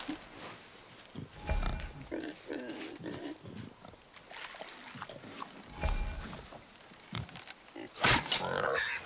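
Golden boar grunting in the video game God of War, a few rough low snorts and grunts spread across the scene amid game sounds, with a voice talking over parts of it.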